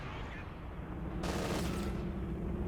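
In the game Company of Heroes 2, battle sounds rumble dense and continuous, with a sharper burst of rapid gunfire midway that fits machine gun fire, heard under talk.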